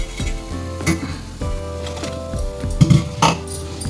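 Vada batter frying in hot oil in a home kitchen pan, a steady close sizzle broken by metal clinks and scrapes of a utensil against the pot.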